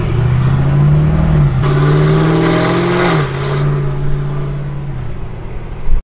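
A supercharged LSA V8 Chevrolet SS engine idles loudly nearby, then revs up and settles back down a couple of times with a deep, rumbling drone.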